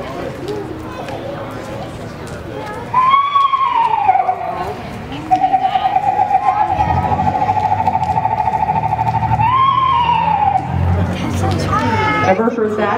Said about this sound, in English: That is an Eastern screech owl.